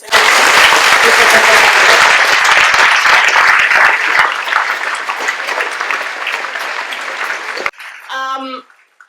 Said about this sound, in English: And another applause for them.